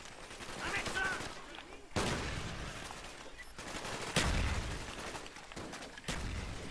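Repeated gunshots from a secondary weapon in Black Ops ring out in sharp bursts, several loud cracks spaced across a few seconds amid game noise.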